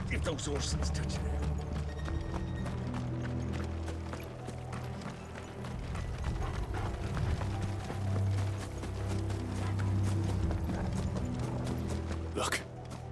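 Horses' hooves clip-clop in a Final Fantasy XVI game scene, a steady rhythmic trotting mixed with rumbling ambience and a low musical drone, with voices talking over it.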